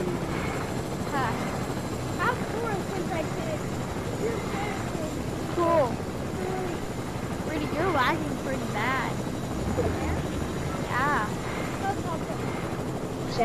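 A helicopter in Fortnite flies with a steady whirring rotor chop, close and continuous, as several players talk excitedly over it.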